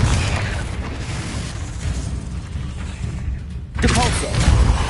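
Confringo blasting spell explosions in the Hogwarts Legacy video game, a sustained rumbling boom that fades out briefly and then bursts again, loud and close, with no talk.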